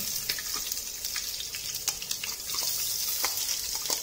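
Garlic tipped into a hot pan for a creamy chicken adobo, a steady bright sizzle with small crackles and spits throughout, close and even, no voices.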